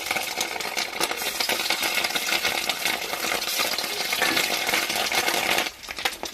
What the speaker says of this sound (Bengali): তেল গরম হয়ে গেছে, এবার ডিমগুলো ছেড়ে দেবো।